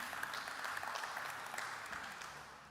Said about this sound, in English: So give a round of applause for your speaker, Jacob Shia.